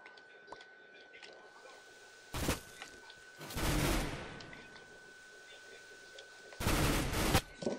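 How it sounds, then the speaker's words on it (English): Bursts of rapid gunfire erupt in short loud volleys in the video game Minestrike, separated by quieter stretches of background sound and a faint steady tone. "I hear some gunfire"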